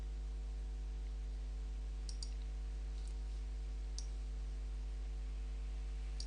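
A few faint, sharp mouse clicks on Macintosh interface buttons, spaced irregularly over a steady low electrical hum, with no talking.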